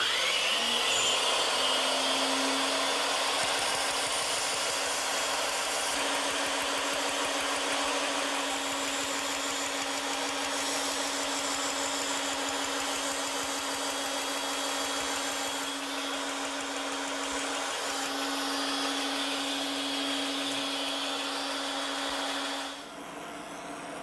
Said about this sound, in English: now I just have to take that over to my bandsaw and cut it out